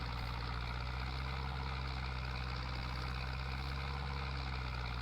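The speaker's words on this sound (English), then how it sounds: "But I'll be using this tractor for that." A farm tractor engine idles close by at meadow and field work, a steady, low, throbbing drone that holds an even pitch with no variation and no voices.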